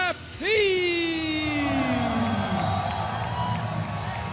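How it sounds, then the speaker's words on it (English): A crowd at an Armed Forces boxing event in Lackland cheers and whoops loudly and steadily as a boxer enters the ring, with a sustained shouting voice rising over the din. "So Baptiste comes into the ring to the cheers of the crowd in Lackland"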